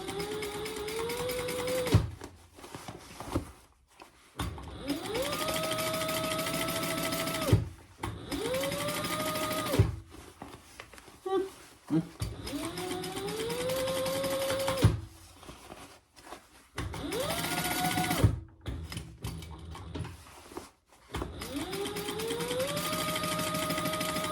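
A Bernina sewing machine stitches with quilting thread in repeated runs of rising whirring hum, each lasting a few seconds and broken by short pauses and clicks, close and steady without talk.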